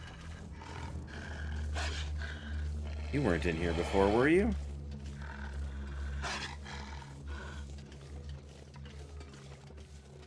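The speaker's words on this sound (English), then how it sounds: "Well, there is a wolf right there." A wolf in The Long Dark, inside Blackrock Prison, lets out a low drawn growl midway through, set against quiet game ambience while someone talks casually over it.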